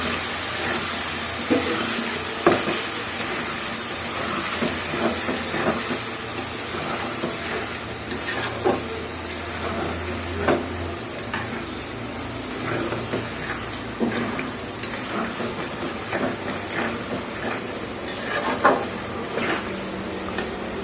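Dried fish (shutki) cooked with stem greens (data shak) frying in a pan, a steady soft hiss with scattered scrapes and clinks of stirring throughout, close by, with no talking.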